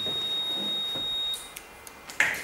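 An alarm buzzer sounds on a machine control panel during a power brake alarm condition on a label production line, a steady tone running for over a second before cutting off, followed by a few short clicks and a beep.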